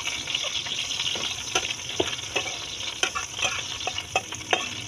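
Onions sizzling in a hot frying pan for chop suey, a steady crackling hiss with scattered pops and stirring scrapes, close and continuous.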